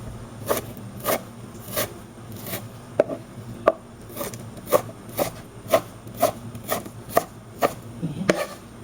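A knife slices through frozen soybeans on a cutting board, giving a steady series of crisp, evenly spaced chopping strokes close by, one about every half second, with no talking.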